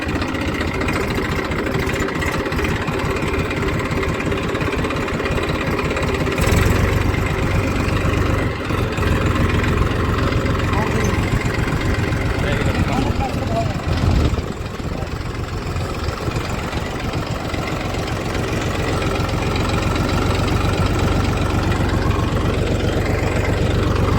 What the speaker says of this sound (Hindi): ये ट्रैक्टर